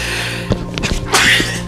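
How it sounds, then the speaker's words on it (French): One abrupt, loud sneeze bursts out near the end of a short indoor stretch with light background noise, preceded by a couple of small breathy sounds. "Je ne recommencerai pas cette capsule pour cet éternuement."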